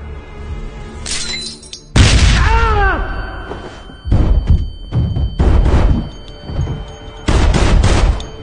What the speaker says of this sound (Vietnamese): chúng ta nghe thấy tiếng súng